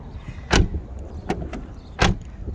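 The front door of a BMW 328i E90 with a faulty lock actuator clicks and thumps in a few short, sharp mechanical bursts, close and fairly quiet.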